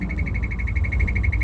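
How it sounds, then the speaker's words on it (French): The winch brake of a Tadano 35-tonne mobile crane makes a steady, rapidly pulsing mechanical tick, evenly repeating with a high whine over a low rumble of machinery, continuous and close. "Le frein de course, il va faire un petit bruit là"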